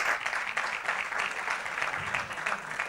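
Audience applause at a stage event, steady dense clapping from a crowd filling the whole moment at moderate loudness.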